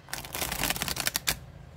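A glossy tarot deck is shuffled by hand, a quick burst of riffling card flutter lasting about a second, close and fairly soft, with a final snap at the end.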